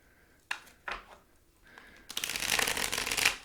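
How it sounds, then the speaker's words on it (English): Tarot cards being shuffled: a few soft taps and flicks, then a close, loud riffling burst of cards. "I try my best to shuffle these cards real good"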